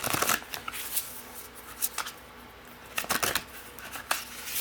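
Tarot cards being shuffled at close range in a series of quick papery riffles and bursts with short pauses between them, and no voices.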